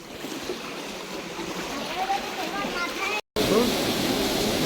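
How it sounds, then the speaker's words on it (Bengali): Water falls from all sides inside a cave near Mussoorie and Dehradun, making a dense, steady wash of splashing. People talk faintly under it, and a brief dropout interrupts it near the end. "জল পড়ছে চারিদিক থেকে, জল পড়ছে"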